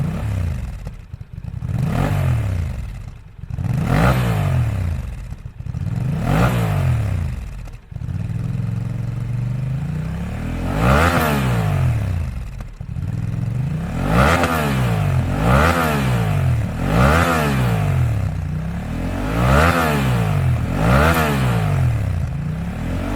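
A Honda Transalp XL750 motorcycle with an SC Project Rally Raid titanium exhaust idles and is blipped repeatedly, the exhaust revving up and dropping back in a steady series of sharp, throaty bursts.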